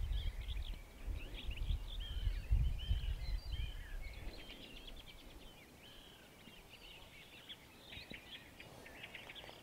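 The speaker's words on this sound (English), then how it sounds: "listening to the birds preparing for the night" Many small birds chirp and call in a quiet grassy field at dusk, their overlapping tweets steady and moderately distant, with a low rumble early on fading to near stillness.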